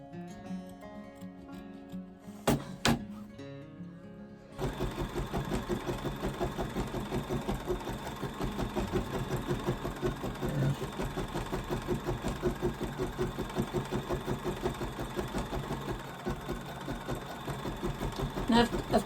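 A domestic sewing machine stitching a witch-hat place mat, a short burst at the start, a pause, then a long steady mechanical whir that stops and restarts.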